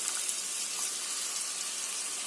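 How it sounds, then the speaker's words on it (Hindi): Water is poured into a pan of chicken and spices cooking with bell peppers, making a soft, steady hissing splash that runs without a break, faint and unaccompanied by voices. "थोड़ा सा पानी ऐड करेंगे"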